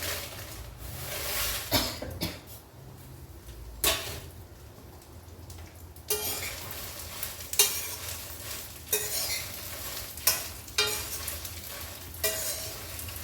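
Moringa leaves and seeds frying in oil, with a steady low sizzle under repeated scraping stirs and occasional sharp clatters from the pan, close and moderately quiet throughout.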